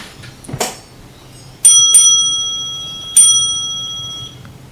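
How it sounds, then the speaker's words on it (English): A knock followed by three clear bell rings from a railway signal box, the first two close together and a third after a pause, each ringing out and fading. "The ringing of bells heard from the signal box"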